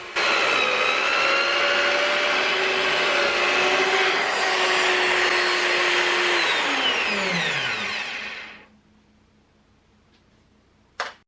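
A drill bores plug holes in wooden keel battens for a centerboard slot keel. The motor runs loud and steady for about eight seconds, then winds down and stops, leaving near silence and one small click at the end.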